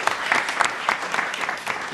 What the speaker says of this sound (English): I think big round of applause for all our panelists once again.